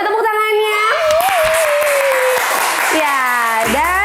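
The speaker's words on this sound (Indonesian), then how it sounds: "Oke, boleh tepuk tangannya." A studio audience at an Indonesian talk show claps in a steady, loud wash. Voices call and whoop over the applause and partly mask it.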